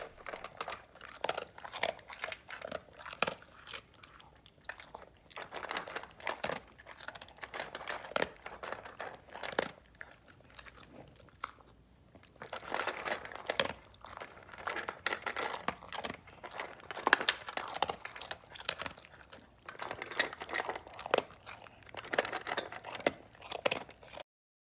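A dog eats from a food bowl: a long run of close crunching, chewing and crinkling bursts at an irregular pace, quiet, with no voices.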